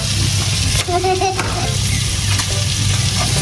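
Food frying in a pan during home cooking, giving a loud continuous sizzle with faint stirring and a brief scrape, over a low background hum.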